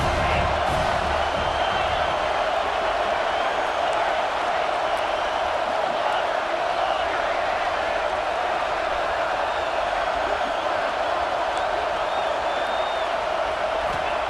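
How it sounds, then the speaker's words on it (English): Steady, dense stadium crowd roar in EA Sports College Football 26, a continuous wall of cheering and murmur from a large audience filling the whole stretch with no pauses. "This crowd bringing the energy and noise early."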